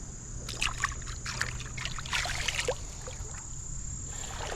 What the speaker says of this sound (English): This is just a beautiful creek too.